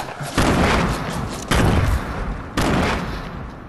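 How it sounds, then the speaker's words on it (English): Grenades exploding in the video game Fortnite: three loud, close booms about a second apart, each with a heavy, rumbling decay. "I threw grenades at him"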